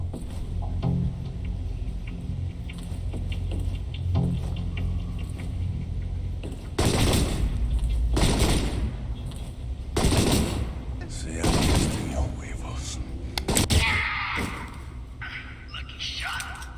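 Bursts of tranquilizer-round gunfire in the video game Alpha Protocol, several loud volleys spaced a second or two apart, over a steady game backdrop with someone talking throughout.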